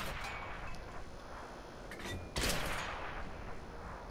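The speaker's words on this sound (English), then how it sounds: "there's artillery" Artillery fire booms in the World of Tanks game during a Japanese heavy tank battle, one loud, close blast standing out midway above a constant din of engine and battle noise.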